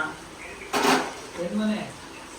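A pressure cooker is set down on a kitchen stove with a single bright metallic clank, followed by softer handling clatter, with a voice talking briefly nearby.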